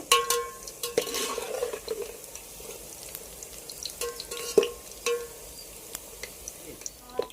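Gulab jamun dough balls frying in oil, a quiet bubbling sizzle broken by occasional ladle taps and clinks against the pan, with faint background voices.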